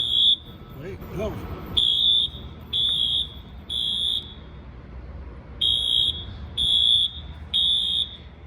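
Sprinkler waterflow fire alarm going off during a test, repeating loud piercing electronic tones in short regular bursts, with a brief rustling noise early on and no clear talk.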